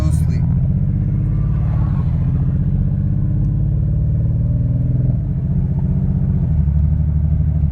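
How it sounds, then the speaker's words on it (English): A Kia Stinger engine runs at idle with a suspected boost leak, its deep, loud rumble surging and dipping unevenly as the RPMs hunt up and down, close to the microphone. "see right now the RPMs are very unsteady"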